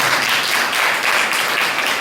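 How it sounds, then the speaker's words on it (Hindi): A crowd at a Hindi-speaking gathering claps together in a dense, steady wash of applause that runs unbroken and fairly loud, with no voices over it. "ताली बजा दीजिए।"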